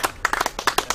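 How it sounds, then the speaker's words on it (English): A small group clapping at a care resort in Thailand, a short burst of a dozen or so sharp, uneven claps close by. "We can even give him a clap because he deserves one."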